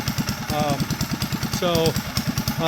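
An engine idling with a steady, rapid thumping rhythm close by. A person talks over it, and a few brief tonal squeals rise above it.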